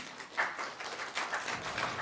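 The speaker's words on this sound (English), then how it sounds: "let's give a hand of applause to Graham to come to the panel" An audience at a civil society briefing on the African Peer Review Mechanism claps to welcome a panelist, a moderate, fairly close patter of many hands with uneven surges across the short stretch.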